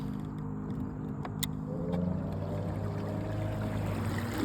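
A Newport Vessels NK 300 electric motor with hand control steering drives a kayak across a lake, a low, even hum blending with rushing water and splashing, close and steady.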